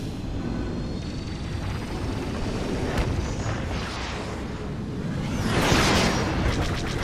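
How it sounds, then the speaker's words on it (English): Battle cruiser cannons fire in Star Wars Battlefront 2, a steady rumble of booming blasts with whooshing passes, and a louder burst near the end. "Take out those defenses and watch its cannons go to work."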